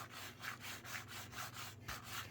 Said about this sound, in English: Take our sanding sponge.